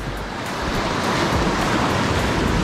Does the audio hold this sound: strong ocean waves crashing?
yes